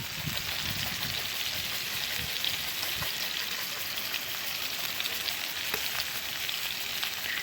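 Roadkill liver and minced onions frying in a pan over a camp-style setup, a steady close, dense sizzle crackling continuously throughout with no talk.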